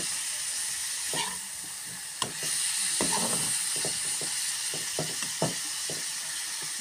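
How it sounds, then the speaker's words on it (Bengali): Food sizzling in a wobbling pan on a gas stove while being stirred, a continuous hissing fry broken by scraping strokes and occasional knocks of the utensil against the pan. "তো এখন এটাকে আমি নাড়া দিয়ে নিচ্ছি"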